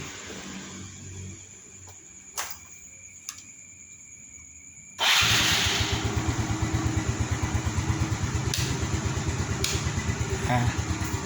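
A 2012 Yamaha Mio Soul scooter motorcycle gets a couple of faint clicks. Then its engine fires up abruptly and settles into a steady, close, rapid idle.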